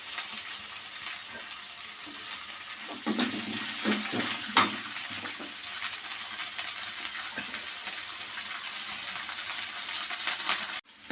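Green chillies and coriander leaves fry in a pan with a steady, close hiss of hot oil, broken by a few soft stirring knocks and scrapes before the sound cuts off abruptly; no talking.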